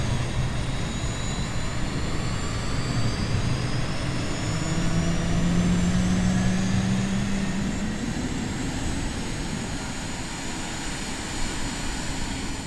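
A small personal jet's engine spools up on the ground at a runway 33 departure point, a steady loud broadband roar with a rising whine swelling midway, continuous and close throughout.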